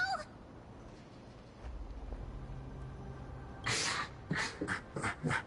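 A quiet background hum, then a short run of cat meows close by in Honkai Star Rail, several calls in quick succession near the end.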